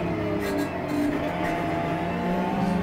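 Race car pushed at full throttle on a time-attack lap at a circuit, a loud sustained engine roar with a steady drone and slight pitch shifts, heard from inside the car without speech.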